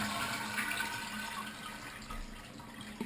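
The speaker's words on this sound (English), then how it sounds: "flush the toilet. And keep the lever depressed to make sure all the water is drained." A Mansfield toilet flushes with its lever held down, a steady rush of draining water running close and loud for the whole stretch, with no voices.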